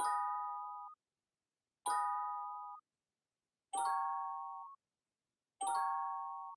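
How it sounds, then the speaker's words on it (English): Four sustained bell chords from a one-shot sample kit ring out one after another at an even pace, each a bright, clean tone that fades before the next strike. "I also played some chords using one of my own bells from my one-shot kit Magnitude"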